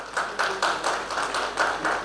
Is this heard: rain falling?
no